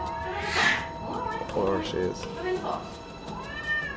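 A reluctant cat meows several times while being coaxed toward a travel box in an animal airport setting, the cries close and fairly loud, with a person speaking briefly over them.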